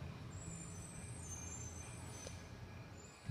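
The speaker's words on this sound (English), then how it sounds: "And I hear a garbage truck," A garbage truck works in the street at 2 a.m., its low engine rumble droning steadily at a moderate distance with a faint hiss, no voices heard.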